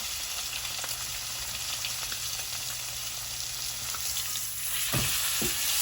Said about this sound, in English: we're actually gonna tilt the pan back, butter, fat cap down, and we're gonna let that render out.